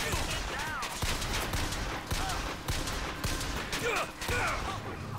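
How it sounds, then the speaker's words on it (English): Bursts of gunfire from the video game Bioshock Infinite crack repeatedly in quick, irregular volleys, loud and close, mixed with game sound effects and whooshing tones. "Oh god, somebody was shooting me."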